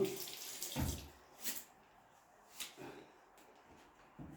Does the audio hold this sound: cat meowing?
no